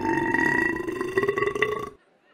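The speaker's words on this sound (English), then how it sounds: "it's better to burp and taste it than to fart and waste it" A single long, throaty burp rumbles for nearly two seconds, close and loud, then cuts off into silence.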